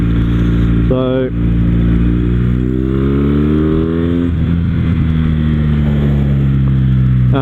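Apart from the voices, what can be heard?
Kawasaki W800 cafe racer motorcycle riding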